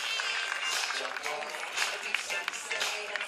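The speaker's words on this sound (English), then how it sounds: "Please, a round of applause for all our VIPs." A crowd applauds at a beach volleyball ceremony, with dense, continuous clapping at an even level throughout.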